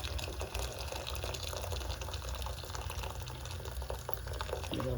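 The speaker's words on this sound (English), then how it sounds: "just gonna put some hot water in there" Hot water poured into a pot to blanch spinach in a home kitchen, a steady low pouring rush heard faintly under a continuous background hum.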